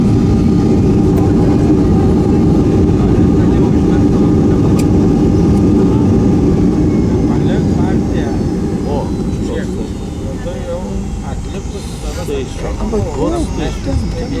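A small airplane's engine drones loudly as it takes off from a village airfield, then gradually fades as the plane moves off, while people talk nearby.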